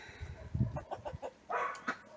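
Chickens cluck in a series of short, close calls, with a longer squawk near the end, over a quiet outdoor background in a Ukrainian village yard.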